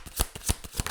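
Tarot cards are shuffled in several quick riffling bursts, close and crisp, evenly spaced across a brief moment.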